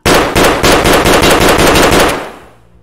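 A Saiga 12 shotgun loaded with slugs from a 10-round magazine fires rapidly in the video game Escape From Tarkov, about eight loud, evenly spaced booming shots in a row that end in a decaying echo.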